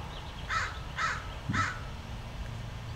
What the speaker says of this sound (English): And to the crows nesting in the tree up above here